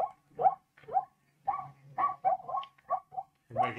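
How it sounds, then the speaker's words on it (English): Zebras calling, a run of short, bark-like yelps repeated in quick irregular bursts, about a dozen in under four seconds, fairly close and loud with no talk. "Sounds like dogs, but it's a zebra."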